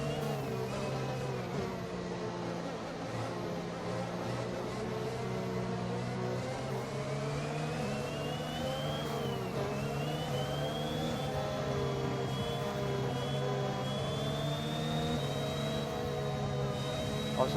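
A Formula 1 car in the F1 2021 racing game with a broken gear drones steadily for the whole stretch, layered engine harmonics joined by a high gear whine that slowly climbs, loud and with no talking.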